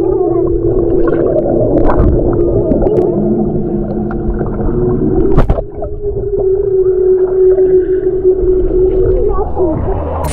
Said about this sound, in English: That's a whale.